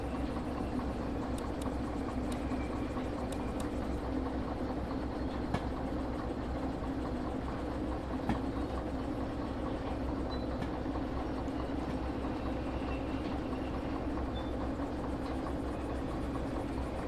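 A train backs up slowly in the simulator Derail Valley, a steady dense rumble of rolling wheels and engine with faint clicks, continuous and fairly loud with no talk.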